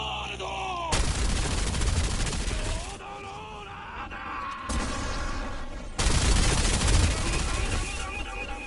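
Loud explosions and bursts of rapid gunfire from a video game, several heavy blasts arriving in waves, with chiming effects ringing between them and no talking.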